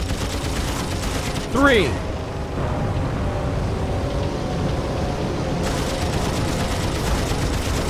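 Gunfire from aircraft guns in the flight game Wings Remastered forms a steady dense rattle over a continuous engine drone. A voice briefly speaks over it.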